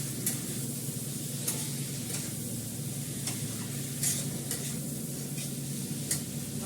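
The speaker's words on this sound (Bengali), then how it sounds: "দেখো গাছের শুকনো লঙ্কা কাশ্মীরি লঙ্কার গুঁড়োটা দিলাম, ভালো করে কষিয়ে দিলাম" Dried Kashmiri chili powder fries in oil in a pan with a steady close sizzle, broken by occasional stirring clicks and scrapes of a spoon against the pan.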